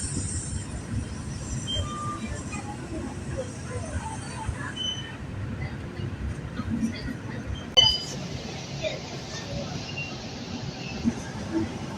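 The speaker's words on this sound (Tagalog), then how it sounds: "Alis na ang train to Moscow." A passenger train bound for Moscow pulls away from a Russian station, a low steady rumble of wheels and carriage noise with faint clinks, one brief louder knock, and people talking nearby.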